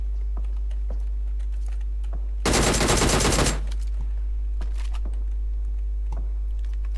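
Rapid automatic gunfire from the PUBG Mobile video game rattles in one dense burst of about a second, loud against a steady low hum and scattered faint clicks, with no talk.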